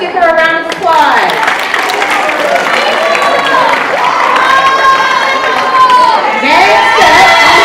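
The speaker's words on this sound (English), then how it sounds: "Let's give her a round of applause." An audience at a school presentation event applauds and cheers, a loud sustained crowd of clapping with shouting children's voices on top throughout.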